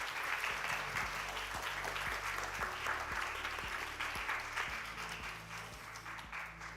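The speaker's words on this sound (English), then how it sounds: "Please join me thanking all of you with a big round of applause." Audience applause closing a conference session on climate project effectiveness and policy, technology and finance strategy, a steady, dense wash of clapping held at an even level throughout with no talk over it.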